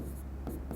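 Chalk or marker strokes on a classroom board make soft scratchy swipes, a few brief strokes in under a second, close and fairly quiet, with no voice over them.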